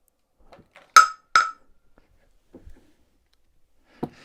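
A Nintendo Switch 2 fitted with a clear tempered glass screen protector dropped from 3 feet lands with two sharp, bright clacks in quick succession, followed by a few faint knocks and a last soft tap, with no talking.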